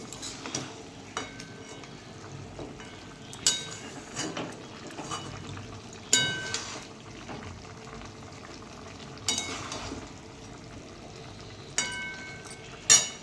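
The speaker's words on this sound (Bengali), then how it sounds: "চলো এবার জলটা দিয়ে দিই" Water goes into a pan of cooked chicken curry, producing a soft continuous sizzle and bubbling, punctuated by occasional clinks and knocks of utensils nearby.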